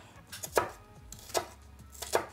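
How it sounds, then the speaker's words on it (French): A knife chops through food on a cutting board in three crisp, evenly spaced strikes, close and clear with no talking. "Petite découpe."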